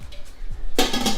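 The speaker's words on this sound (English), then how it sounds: "you salted it, stirred it in, we're gonna put our lid on" A lid clanks onto a pot of beef lu'au stew, a sudden metallic clatter ringing briefly after a quieter stretch, close and distinct.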